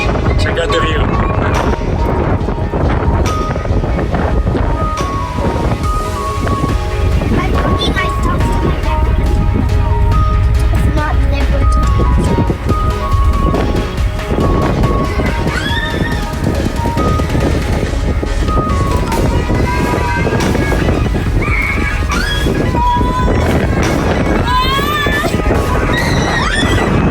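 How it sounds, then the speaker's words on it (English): Steady wind buffets the microphone on the Vancouver Island coast, a loud, continuous rushing roar with gusty low rumble that runs throughout, while a person speaks over it now and then. "It's a little bit windy out here."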